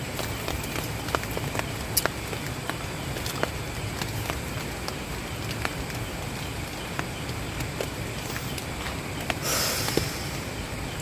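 Light drizzle falling on a bamboo-covered campsite at the foot of a mountain, a soft steady hiss with scattered sharp drips and ticks striking leaves and surfaces, plus a brief louder rustle near the end.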